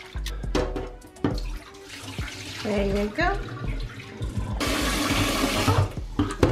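Running water rinsing parboiled rice in a kitchen, with gushing tap flow that starts and stops, splashing and sloshing in a bowl, a brief spoken remark and clatter in between.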